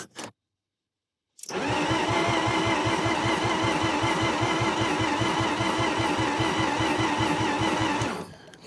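A Mazda RX8 rotary engine is started after a brief silence. A loud, close, steady rapid pulsing runs for about seven seconds before it cuts off.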